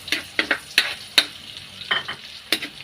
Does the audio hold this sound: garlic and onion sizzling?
yes